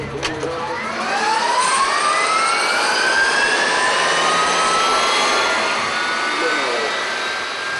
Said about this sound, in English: and that's how we spool the engine up.